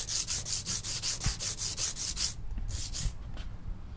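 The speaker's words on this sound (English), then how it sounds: "things are sanding evenly" Rhythmic back-and-forth sanding of an acoustic guitar saddle, a steady scratchy rasp repeating about twice a second, then slowing and pausing near the end.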